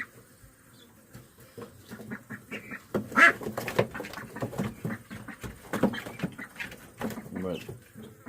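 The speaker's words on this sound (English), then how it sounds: "And there's one duck in there with them." A single duck quacks among skittish young guinea hens kept inside a farm pen, with insect-like buzzing and soft bird chatter throughout and a louder squawk midway, at moderate distance.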